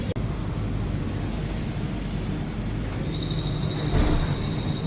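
An airport SkyTrain arrives at a platform in Singapore's airport, a steady mechanical hum and rumble under the terminal ambience, with a high sustained whine rising in the final seconds as it approaches.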